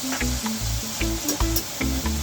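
Chopped tomato hits a hot pan for ackee and saltfish, giving rhythmic bursts of close sizzling and frying hiss, with short scraping stir sounds between them and no talking.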